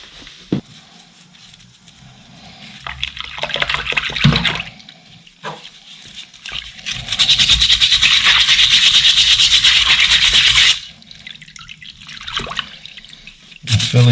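EBC sintered motorcycle brake pads from a Kawasaki Z1000SX being washed in water, with splashing and swishing bursts, a long loud stretch of running water, then quieter sloshing and dripping, close up.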